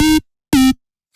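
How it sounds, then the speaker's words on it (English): Two short, punchy notes of a distorted sine-wave synth bass layered with noise, separated by a brief gap, loud and dry. "just like pretty distorted sine wave with the noise"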